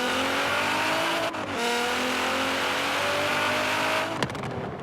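A sports car's engine drones loudly and steadily in the racing game Forza Horizon 3, dipping briefly at a gear change before rising again and breaking off near the end, with no talk.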